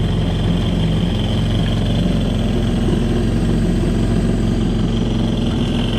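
The engine of a Kawasaki STX 15F jet ski runs steadily during a freshwater flush, a loud, constant idling drone with rushing water noise and no talk.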